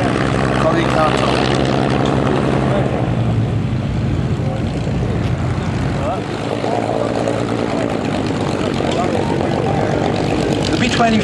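Propeller aircraft droning loudly and steadily past the crowd at the Duxford air show, with a rough engine roar throughout. A commentator speaks over the public address underneath.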